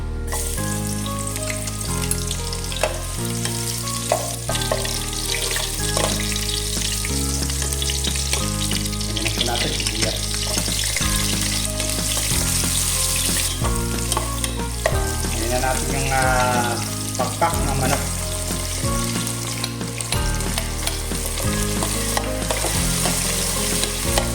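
Garlic fries in cooking oil with a loud, steady sizzle and occasional stirring scrapes, all under continuous background music.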